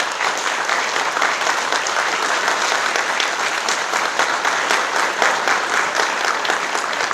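Audience applause at a middle school plaque dedication in Brockton, a dense, steady wash of many hands clapping that holds evenly for the full stretch with no voices over it.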